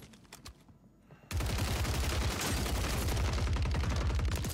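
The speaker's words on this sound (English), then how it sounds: "Why did that take so many shots," Call of Duty Warzone gunfire, likely a Holger rifle: a quiet stretch, then loud, continuous automatic fire that rattles on without pause for several seconds, close up.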